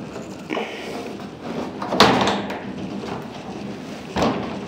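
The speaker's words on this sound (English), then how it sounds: "See, this door is not wanting to shut." A sticking door is pushed shut and finally latches, with a scrape and a sharp knock around the middle and another thump near the end, close by in a quiet room.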